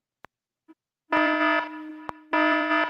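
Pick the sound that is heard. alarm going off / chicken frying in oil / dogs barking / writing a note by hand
alarm going off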